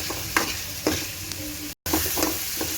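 Potato pieces are stirred into an egg curry in a pan, with a few brisk scraping strokes over a constant sizzle and a brief dropout near the end.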